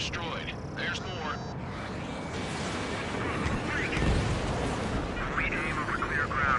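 Gunfire and explosions rumble through a dense battle in the combat flight game Ace Combat 7, a continuous roar of bursts and booms with aircraft noise, with radio voices speaking over the din.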